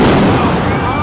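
Loud, continuous blast and crackle from flashbang grenades going off in a street protest, a dense roar of bursts and debris filling the whole second with shouting mixed in.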